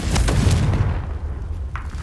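A Confringo blasting spell in Hogwarts Legacy erupts as a loud, close explosion, a heavy boom with crackling debris that rumbles and fades over about a second, followed by a short faint pop.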